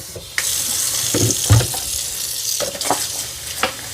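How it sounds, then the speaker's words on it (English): Running tap water over washable parts of a Dyson Vis Nav robot vacuum: a continuous splash and trickle with rising bursts of spatter as the pieces are rinsed and turned under the stream. "let's wash all the parts that I can wash"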